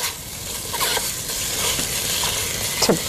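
Italian sausage sizzles in a pan while a chop-and-stir tool breaks it up, with repeated scraping and prodding strokes over a steady close frying hiss.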